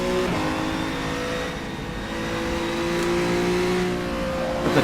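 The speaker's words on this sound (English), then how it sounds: "the tranny sounds pretty nice when it's gearing up and down" Race car engine in rFactor 2 revving steadily with a gear change near the start, pitch stepping up and down as the transmission shifts, loud and continuous.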